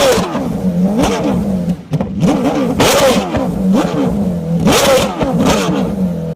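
BMW M3 GTR race car, chassis 006, the Star-Spangled M3 GTR, its engine revved hard in repeated loud rising blips that climb high and drop back, close and dominant.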